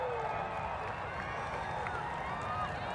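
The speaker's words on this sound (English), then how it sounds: "You hear the crowd. Everybody's excited." A large stadium crowd of about 10,000 fans at Snoopy Stadium roaring during a total solar eclipse, a dense, steady wash of distant cheering and clapping with no pauses.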